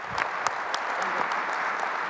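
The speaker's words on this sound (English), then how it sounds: "Let's give her a round of applause" Steady, dense applause from a panel audience greeting a first-time expecting mother, filling the clip evenly with no pauses.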